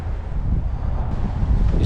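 Wind buffets a narrowboat on the canal near Nether Heyford, a loud, continuous rumbling gust pressing against the microphone for the whole stretch with no speech.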